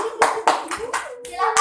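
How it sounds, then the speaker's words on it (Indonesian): A second-grade class claps hands for a pupil during a micro-teaching lesson, with several bursts of brisk, fairly close clapping broken by short pauses and a teacher's voice sustained underneath. "beri tepuk tangan untuk Vicky"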